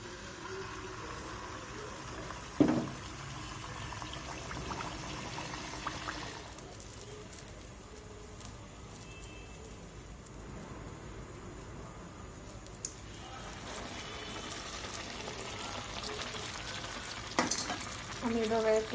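Pitha frying in hot oil: a continuous soft bubbling sizzle with occasional louder clatters and stirring scrapes, steady and fairly quiet throughout.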